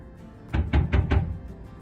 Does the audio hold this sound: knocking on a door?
yes